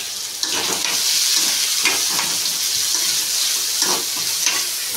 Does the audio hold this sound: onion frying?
yes